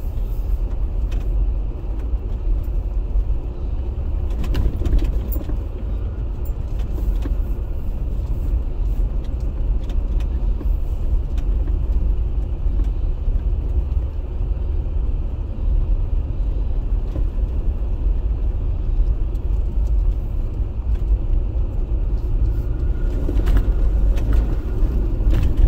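A car fitted with a cold air intake and a Pedal Commander drives along. A steady low engine and road rumble is heard from inside, with a faint rushing intake and a few brief clicks and no talk.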